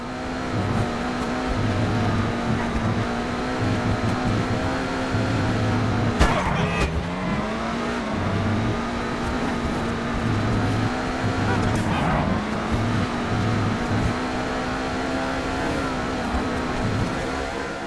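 A Benefactor SM722 sports car in a GTA game races down a freeway, its engine droning steadily at high revs with brief gear-shift dips and whooshes as other traffic passes.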